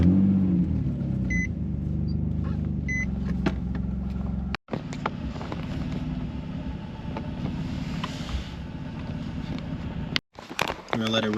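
A Nissan 350Z engine idles with a steady low rumble, close and even, briefly cutting out twice, while a person talks nearby.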